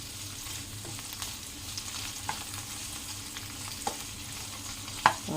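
Soft, steady sizzling of bitter gourd frying in a pan with occasional scraping stirs and light clinks, no talking.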